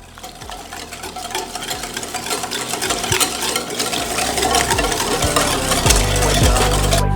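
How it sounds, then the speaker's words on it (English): Whisking a French toast batter in a bowl, a dense, continuous scraping and rattling that stays steady and close for several seconds with a few sharper clinks against the bowl. "All right, let's get this whisked up here."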